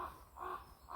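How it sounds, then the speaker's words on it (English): Crows caw in a garden near the Dolbrodmaeth mountains, three faint, evenly spaced harsh calls at a distance. "Can you hear the crows?"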